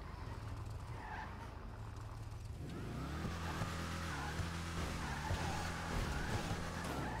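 Ocelot F620 sports car in GTA 5, modeled on a Maserati GranTurismo, with a low engine drone that rises into a steady revving hum and some tire noise partway through, close and continuous.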